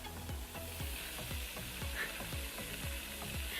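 Hair mousse foam expanding with a steady, close crackling fizz, like a soft sizzle of popping bubbles, continuing without pause.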